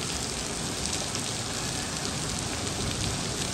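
Heavy rain pours down in a dense, even hiss that stays loud and unbroken throughout, with no voices.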